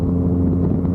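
A single-turbo Nissan R34 Skyline runs on a track, a brief, dense low engine rumble heard from close by.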